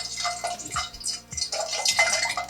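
A drop of water hits hot frying oil while samosas are being made, giving a series of close bursts of sizzling and crackling that rise and fall in uneven spurts.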